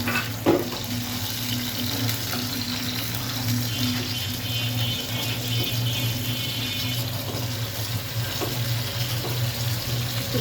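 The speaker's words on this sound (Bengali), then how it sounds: "এখানে গরম থেকে আলুগুলো ভেজে নিচ্ছি" A continuous hiss and sizzle, like potatoes frying in a hot pan, steady throughout with a low hum underneath and a faint clink near the start.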